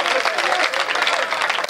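Audience applause at a Hindu-themed kavi sammelan poetry gathering, a dense crowd clapping steadily throughout with a voice faintly present beneath it.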